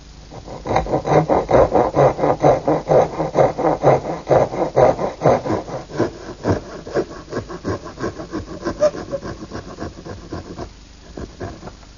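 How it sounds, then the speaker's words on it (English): A small dovetail saw cuts notches in clamped wood stock for a plant stand, with steady rhythmic back-and-forth rasping strokes, close and loud, slowing and fading toward the end. "now I'm just going to cut them with my little dovetailing saw"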